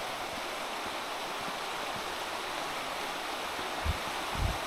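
The Luzège, a trout river near Laval-sur-Luzège in Corrèze, flows in a continuous, even roar of moving water that holds steady throughout, with a couple of soft low thumps near the end.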